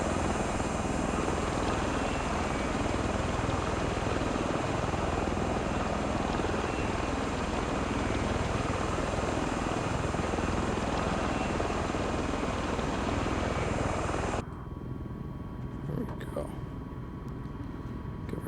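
Steady, loud roar of a Bell Boeing MV-22B Osprey tiltrotor's engines and rotors during landing in Microsoft Flight Simulator 2024, a continuous broadband wash that cuts off abruptly near the end, leaving a quiet background.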